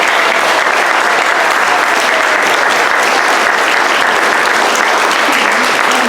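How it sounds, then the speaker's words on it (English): Loud, sustained audience applause at the inaugural All Things Abalone festival in Monterey, California, a dense, unbroken roar of many hands clapping close by for the whole stretch, without any gaps. "Can we get a round of applause?"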